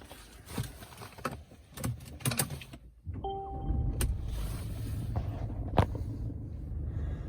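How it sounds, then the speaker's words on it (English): A few mechanical clicks, then a Mercedes-Benz C220d 2.1 diesel engine turns over and settles into a steady, low idling rumble close by. "Just start the car up."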